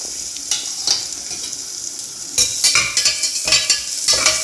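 Crushed onion and garlic sauté in a pan for black kavuni rice porridge, with bright crackling sizzle and bursts of scraping stirring that come in clusters, loud and close.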